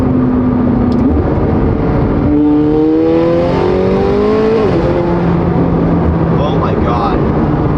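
A turbocharged V8 sports car pulls hard under acceleration, its loud engine tone climbing in pitch through the gears and then settling back, with people talking over it inside the cabin.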